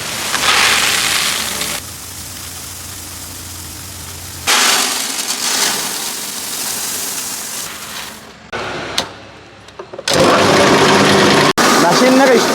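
A small home paddy husking machine for rice runs with a continuous mechanical whir that shifts as the load changes, briefly dropping out and then returning loud, while a person talks over it.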